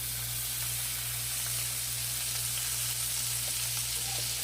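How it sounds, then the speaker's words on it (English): Vegetables sauteing in rendered bacon fat give a steady, even sizzle with a low constant hum underneath, close and continuous with no talking. "We're just gonna saute our vegetables, get them to sweat down in the bacon fat before we add our beans."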